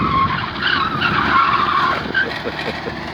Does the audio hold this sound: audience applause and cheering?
no